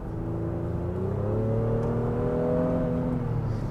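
Honda Pilot with a J-series V6 engine accelerating, a smooth, steady engine note climbing in pitch over a few seconds, heard continuously from inside the vehicle without speech.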